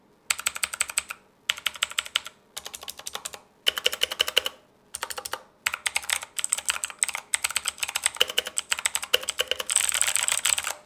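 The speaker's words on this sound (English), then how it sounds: "this is how it sounds with Altemu blues" Typing on a Redragon mechanical keyboard fitted with Outemu blue switches: loud, crisp clicky keystrokes in quick bursts separated by short pauses, ending in a faster continuous run, close and alone with no talk.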